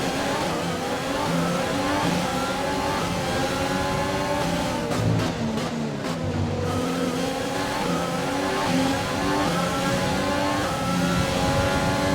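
A Formula 1 car in the F1 2020 racing game accelerates hard out of a corner, its engine note rising steadily in a loud, continuous whine with brief gear-shift dips and no talk.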